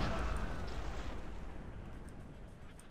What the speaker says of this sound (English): the cannonballs are just wiping my horses out